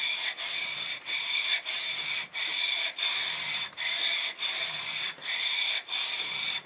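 Steady back-and-forth scraping of a Japanese chisel across a sharpening stone, about ten regular strokes with brief pauses between them, close and fairly loud with no talking.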